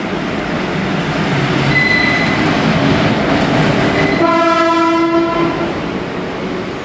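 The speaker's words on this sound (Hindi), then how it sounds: "तो ये देख सकते हैं आप, आ गई अपनी ट्रेन हल्दी घाटी एक्सप्रेस।" Haldighati Express passenger train pulling into Chittaurgarh station, a steady loud rumble of wagons with a long sustained horn blast sounding near the end, no voices over it.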